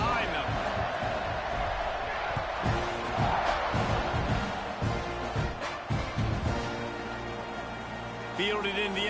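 A stadium crowd roars at kickoff in a college football video game featuring Pitt, a loud sustained swell of cheering with thumping impacts. A commentator talks over it throughout.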